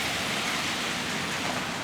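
Steady rain falls over an old town street in Jonesborough, Tennessee, a continuous even hiss with no pauses or voices.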